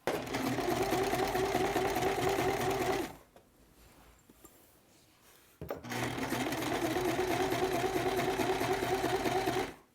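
A sewing machine stitching a quilt block runs in a fast, steady whir, stops for a couple of seconds, then resumes its continuous close, loud stitching.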